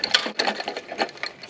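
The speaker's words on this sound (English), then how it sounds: "Picking up metal bits, nails, screws." Magnet dragged through soil collects metal bits, nails and screws, giving a dense, rapid metallic clicking and rattling that stays close and fairly loud throughout the short stretch.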